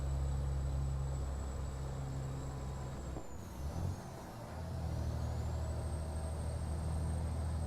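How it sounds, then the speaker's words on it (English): A heavy truck engine in a truck driving simulator drones low and steady, then dips briefly as the driver downshifts with a double clutch and blips the revs before the engine settles back to its steady rumble. "Put a rev on a downshift and a double clutch"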